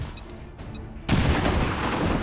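In XCOM 2, a grenade goes off as a sudden loud blast, cutting in after a few faint clicks and then rolling into a sustained roar of debris.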